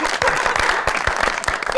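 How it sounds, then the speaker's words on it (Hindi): Studio audience applause greets a guest on a television talk show, a steady dense wash of clapping at moderate loudness with voices mixed in. "आइए, बहुत सारी तालियों में"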